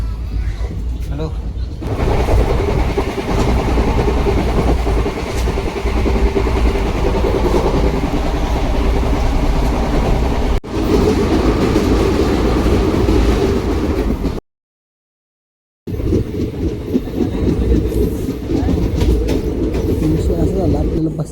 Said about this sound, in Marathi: आता जायचं आपण ट्रेननं घरी.